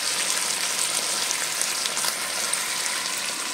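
Chili chicken fries in a pan with a dense, steady hiss of sizzling oil throughout, close and loud, with faint stirring movement barely showing beneath the constant crackle.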